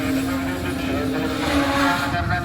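A rust-worn diesel train runs along the coast near Colombo, Sri Lanka, giving a loud steady engine drone with a sustained tonal hum and rumbling wheels close by.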